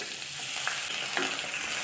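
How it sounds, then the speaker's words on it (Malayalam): Shallots and curry leaves fry in coconut oil in a kadai, giving a steady, close sizzle with a few soft crackles and light stirring scrapes, no voices. "ഇനി ഇതിലേക്ക് ഉള്ളി മൂപ്പിക്കാൻ വേണ്ടി കടായി വെച്ചു."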